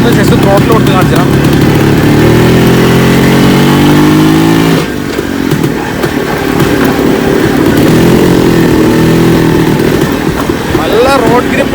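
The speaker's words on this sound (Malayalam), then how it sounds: "ഞാനൊന്ന് ജസ്റ്റ് ത്രോട്ടിൽ കൊടുത്ത് കാണിച്ചാൽ" A Yezdi Classic 250 motorcycle engine revs up under throttle, rising steadily in pitch, dropping back abruptly, then revving again, loud and close, with someone talking over it.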